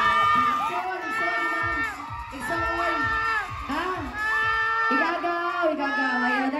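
A wedding reception crowd, gathered for a playful men's candidate contest, erupts in loud cheering, shrieks and whoops in repeated bursts that rise and fall throughout.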